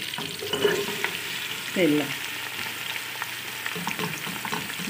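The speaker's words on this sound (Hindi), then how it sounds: "और ये घी है, हमने तकरीबन 1 कप घी ले लिया है। और बस अब हम इसमें ये सारी प्याज को डाल देंगे।" Onions frying in about a cup of hot ghee for chicken stew give a steady close sizzle, with a couple of brief scraping stirs and a soft clink near the start.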